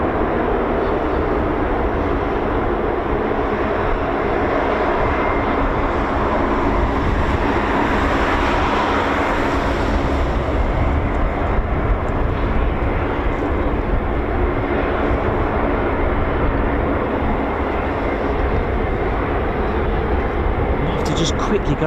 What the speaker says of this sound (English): That might actually be the C-146, I don't know. They sound quite similar.